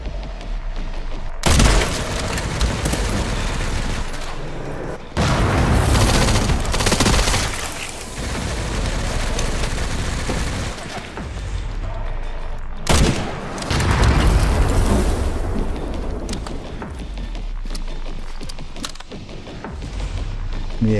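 Bursts of automatic machine gun fire and heavy booms in the Resident Evil 9 video game, with zombies shooting back, coming in repeated loud volleys with short gaps between them.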